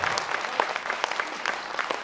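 An audience claps at a Hindi poetry recitation. The short burst of scattered applause is fairly close, with individual claps standing out over a soft crowd wash.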